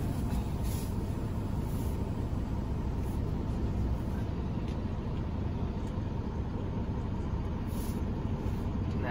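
A semi truck with trailer reversing slowly, its diesel engine a steady, low, unbroken rumble that stays close and even throughout, with no talk.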